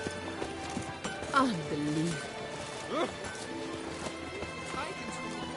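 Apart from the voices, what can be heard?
horse Roach hooves clip-clopping in video game The Witcher 3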